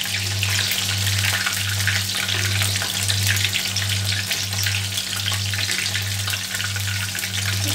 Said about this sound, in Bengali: একদম গোল্ডেন ব্রাউন করে ভাজা হবে।